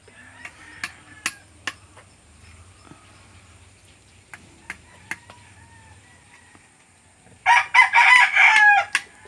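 Rooster crowing and chickens clucking around a farm garden plot, with sparse sharp clucks and calls scattered early, then a loud sustained crow near the end.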